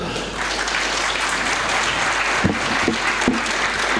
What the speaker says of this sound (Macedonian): Овие луѓе заслужуваат еден аплауз.